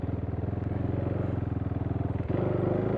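A KTM 390 Duke single-cylinder motorcycle rides along a country road, its engine note steady and close with a rapid pulsing throb, then shifting to a slightly higher, smoother tone near the end.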